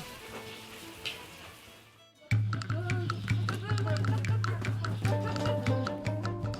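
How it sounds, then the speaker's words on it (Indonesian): Baursak dough frying in hot oil, a close bubbling sizzle with scattered crackles that starts after a quieter opening and then continues steadily. "Cukup digoreng 2 menit, baursak hangat pun siap dinikmati"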